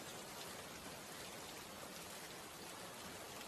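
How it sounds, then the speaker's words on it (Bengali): Rain falling steadily over flooded village fields, a dense, even hiss of drops with no breaks, moderately faint and without voices. "সারা দিন একরকম বৃষ্টি হয়ে আসছে"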